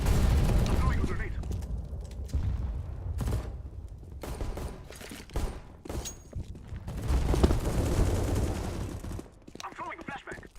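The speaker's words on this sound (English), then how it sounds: "I'm throwing a grenade." Grenade thrown during a competitive first-person shooter match, heard as booms and bursts of automatic gunfire in a dense, continuous mix of loud combat sounds, with players talking over it.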